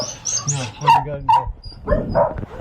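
A fairly large beagle gives short yips and barks mixed with whimpers, up close and in quick irregular bursts, while people talk nearby.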